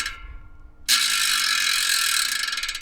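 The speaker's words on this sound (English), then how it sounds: "I have to mention that this is a loud hub" Loud freehub ratchet on a Yoeleo carbon MTB rear wheel, a sharp burst of rapid dense clicking that starts abruptly and keeps buzzing steadily for about two seconds, heard alone and close up.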